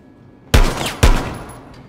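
Gunfire in the tactical shooter Rainbow Six Siege: two loud, sharp reports about half a second apart, each followed by a ringing decay, with no talk over them.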